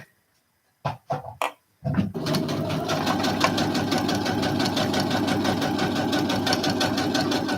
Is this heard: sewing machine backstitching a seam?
yes